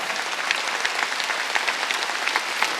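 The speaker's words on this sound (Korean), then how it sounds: "깨달은 사람만 박수 쳐." A church congregation applauding during a Sunday worship service, with many hands clapping in a dense, steady patter at moderate loudness that holds evenly throughout, with no voices over it.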